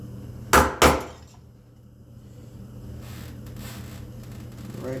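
A wood chisel is struck twice, sharp close knocks, as it cuts a shelf joint for a spice rack, followed by quieter scraping and paring.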